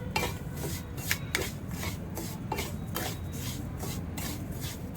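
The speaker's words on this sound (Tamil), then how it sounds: "லோ ஃப்ளேம்லேயே வச்சு நம்ம இதை நல்லா லேசாக கலர் மாறுற வரைக்கும் ஃப்ரை பண்ணிக்கலாம்." Semolina (rava) being fried on low flame and stirred in a pan for kesari, in a village kitchen: a steady scraping and rubbing of a spoon against the pan, with repeated strokes and no talk.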